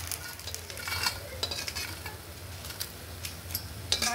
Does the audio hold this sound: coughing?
no